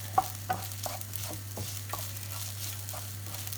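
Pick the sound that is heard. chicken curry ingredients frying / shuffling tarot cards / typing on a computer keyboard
chicken curry ingredients frying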